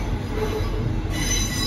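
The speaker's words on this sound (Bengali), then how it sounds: "ট্রেন যাচ্ছে" A train rolls past at close range with its wheels squealing sharply against the rails over a low rumbling base, a brief steady burst with nobody speaking.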